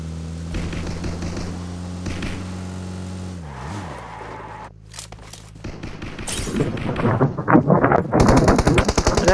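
Gunfire in a classic-mode shooter video game: a steady engine drone gives way to rapid machine-gun bursts that grow dense and loud toward the end, with sharp repeated shots; no speech.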